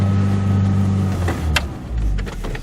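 A 2011 Ford Ranger 2.3L with a sticking throttle holds a steady, loud high idle with a droning engine tone, then the drone cuts off and is followed by a few clicks and mechanical clunks.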